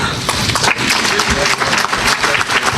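Loud, dense applause from an audience at a public meeting on the City of St. George, steady throughout with no pauses.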